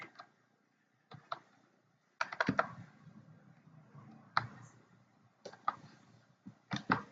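Text being typed on a computer keyboard in Microsoft PowerPoint: sparse, close clicks in small clusters separated by pauses, quiet overall.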